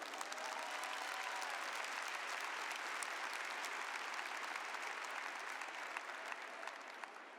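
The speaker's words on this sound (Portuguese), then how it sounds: "Aplauda essa palavra." Sustained, dense applause from a church congregation during a Catholic friar's sermon, a steady bright roar of many hands that holds evenly for the whole stretch without any voice over it.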